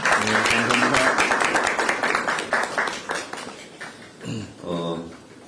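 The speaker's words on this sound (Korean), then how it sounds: "박수 한번 보내주시기 바랍니다." Audience applause at a Korean political event, loud, close clapping from a crowd for the first few seconds, thinning out as a voice speaks over the tail end.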